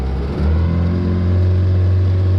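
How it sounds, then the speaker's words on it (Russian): A boat motor in a tunnel hull starts up close by after an ice floe is freed, rising in pitch and then settling into a loud, steady drone. "все, мотор пошел."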